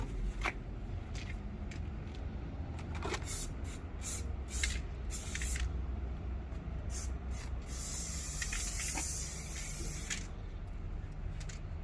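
Blue spray paint dusted from an aerosol can onto a Spiderman street-art graffiti piece, with repeated short hissing bursts over a steady outdoor background and a longer spray near the end.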